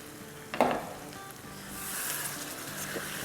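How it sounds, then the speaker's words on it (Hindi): Aloo masala for an achari potato dish sizzles in a pan while being stirred, opening with a sharp metallic clink of the spoon followed by a soft, steady frying hiss. "अच्छे से हिलाते हैं"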